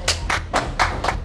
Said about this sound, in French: Un petit applaudissement pour Cédric.